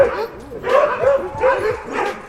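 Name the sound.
huskies barking at a dog sledding kennel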